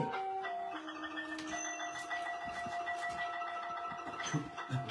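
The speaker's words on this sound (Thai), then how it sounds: "ลูกมาเปิดดนตรีไทยให้แม่ฟังแล้วนะ" Faint traditional Thai music plays at a distance, with chiming, bell-like melodic notes over a quiet hiss.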